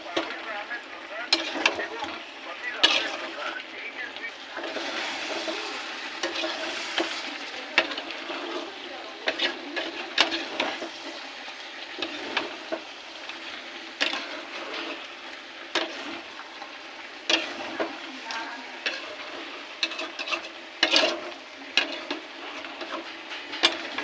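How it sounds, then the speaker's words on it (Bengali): Chicken do pyaza sautés in a pan, an ongoing sizzle punctuated by repeated scraping strokes and clatter as the mixture is stirred, close by and moderately loud throughout. "আরো ভালো করে কষাবো।"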